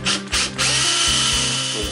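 A power drill with a 1/8 inch bit drills holes, a close, loud high whine broken by a few quick trigger stops and restarts, with no speech.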